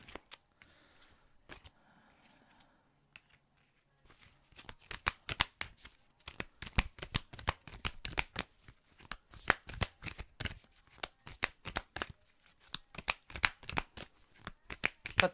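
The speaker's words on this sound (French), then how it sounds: "On va aller chercher une dernière carte et ça sera en fait une carte conseil" Tarot cards shuffled briskly and drawn in a reading, a long run of dense, rapid riffling flutters that start sparse and build into steady close-up bursts, with a few quiet moments early on.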